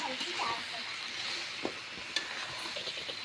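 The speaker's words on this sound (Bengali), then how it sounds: "ঢাকনা খুলে দেখি যে আস্তে আস্তে কষানো হচ্ছে দেখুন" A bottle gourd curry sautés in a pan with its lid lifted, giving a quiet, steady sizzle broken by a couple of sharp spoon clicks against the pan.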